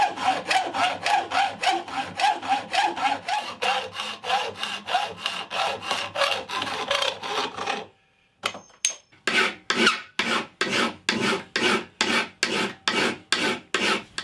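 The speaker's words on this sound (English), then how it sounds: "let's get it sawn off and filed down" A piece of galvanised steel is cut by hand with a saw, then filed down: rhythmic rasping back-and-forth strokes close by, a brief pause, then quicker, crisper filing strokes in a steady beat.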